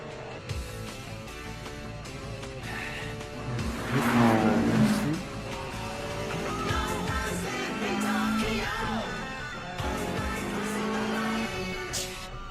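A sports car engine revs and accelerates in an Initial D mountain-road racing anime, loud and close, rising to a strong peak midway and then holding a steady drive under layered background music.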